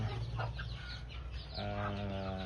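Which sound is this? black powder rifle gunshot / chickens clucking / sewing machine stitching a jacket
chickens clucking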